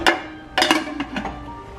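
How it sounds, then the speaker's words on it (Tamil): A metal pressure cooker lid is set in place on the pot: a few sharp clanks and clinks in quick succession, close and clear, with a faint hum underneath and no speech. "இப்போ இந்த ப்ரெஷர் குக்கரோட மூடியை போடுவேன்."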